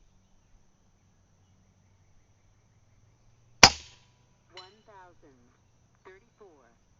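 An FX Impact M4 air rifle fires a single 31.2 grain slug: one sharp, loud crack standing alone in a quiet outdoor setting. It is followed a moment later by short, faint bird chirps.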